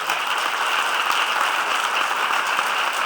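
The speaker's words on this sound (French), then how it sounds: "on va faire une minute d'acclamation" Ovation from the crowd at the FIFF Cotonou 2024 opening ceremony in memory of Annick Ballet, an even wash of many hands clapping at moderate level throughout, with no voices over it.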